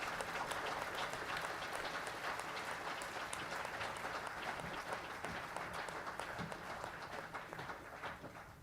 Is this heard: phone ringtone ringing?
no